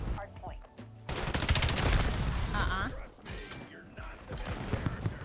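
Video game gunfire from an M15 Mod 0 rifle crackles in a rapid burst mid-match, with mechanical clicks and other game effects around it and a player talking briefly.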